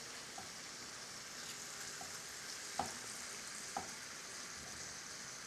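Very thin sliced beef frying on a hot surface for Philly cheese steak, a steady quiet sizzle with a few faint clicks and taps of a utensil.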